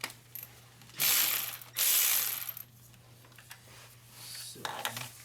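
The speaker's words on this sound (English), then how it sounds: "We're gonna hold this fitting so we can undo this banjo bolt." A wrench ratchets while undoing a banjo bolt on a Hyundai Sonata power steering pump, two loud bursts of rapid ratcheting clicks followed by softer metallic clinks, with a low hum and brief talk underneath.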